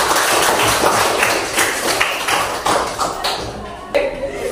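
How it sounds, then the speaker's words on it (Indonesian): A classroom of students clapping together on a teacher's cue, a fairly loud, busy patter of hands with distinct sharp claps standing out, voices mixed in underneath. "beri tepuk tangan untuk kita sekalian."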